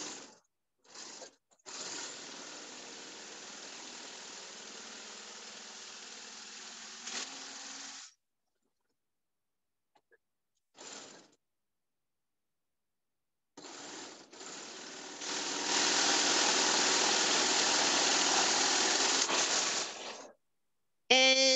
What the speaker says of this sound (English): I just love this serger because I love that this isn't going to fray